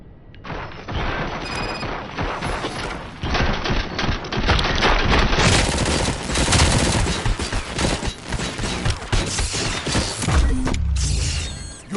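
Heavy sustained gunfire aimed at the ED-209 robot in a RoboCop film scene, dense bursts of shots and mechanical clatter filling the whole stretch, loud and close, with no talk.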